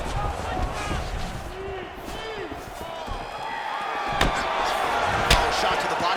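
A body punch lands in the EA Sports UFC 4 fighting game, a sharp slam near the four-second mark over a steady arena crowd din, with commentary running underneath.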